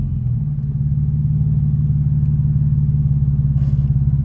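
A BMW 335xi revs hard through a test pull after a front axle replacement, its engine a loud, steady rumble close by with no talk over it.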